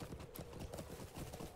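A horse's hooves clip-clop in the online game Lord of the Rings Online, a faint, steady rhythmic trot under a constant low background hum, with no talk.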